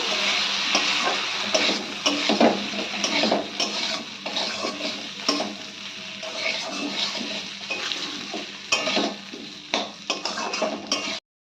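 Green chili and ginger paste is stirred into taro root in a pan for a prawn curry, a spoon scraping and clattering against the pan over a continuous loud sizzle.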